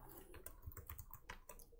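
Quiet, close computer keyboard typing of a gnuplot command at a terminal, a quick irregular patter of light key clicks with no voices.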